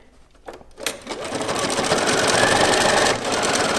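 A sewing machine stitches a quilt binding seam, starting with a few scattered clicks before the motor settles into a steady, loud, continuous whir of close stitching that briefly dips near the end.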